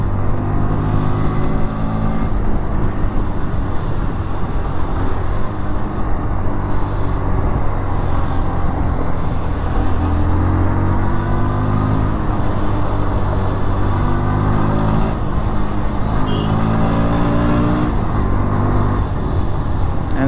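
A 2024 Bajaj Pulsar NS 125 motorcycle engine revs repeatedly, its note climbing and falling in a loud, close, buzzy drone that runs throughout.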